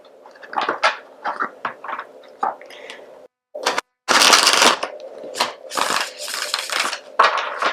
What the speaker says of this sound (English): First, let's start with the traditional Rider-Waite tarot deck. I've already pre-shuffled, but I'll get into one more shuffle.